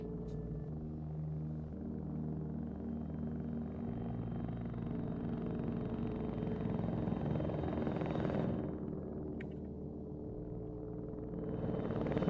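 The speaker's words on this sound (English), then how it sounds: "There's a friendly helicopter in the air." A helicopter in the ZEUS Duala Crisis military game, with a steady throbbing rotor drone and engine rumble that holds through the whole stretch and swells slightly near the end, alone with no voices.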